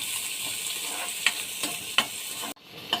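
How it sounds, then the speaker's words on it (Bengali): Bottle gourd seeds fry in a pan with a steady, close hissing sizzle, broken by a few scraping knocks of stirring before the sizzle suddenly drops away. "এতে আমি লাউয়ের বিচিগুলো একটু ভাজা ভাজা করে নেব।"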